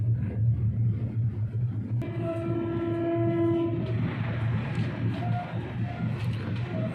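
A goods train passes at an Indian railway station near Najibabad Junction with a continuous low rolling rumble, and a long, loud horn blast sounds midway over the noise.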